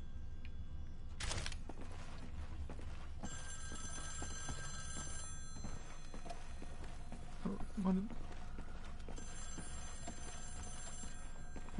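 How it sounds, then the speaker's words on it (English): A phone rings in Wolfenstein: The New Order, with bursts of high, bell-like trilling that come and go beneath a person talking. "Oh, we got a phone call."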